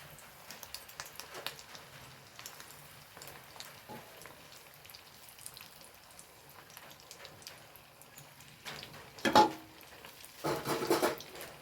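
Potato snack deep-frying in oil, a soft crackling sizzle with scattered pops, rising to louder bursts of frying near the end as pieces are moved and lifted.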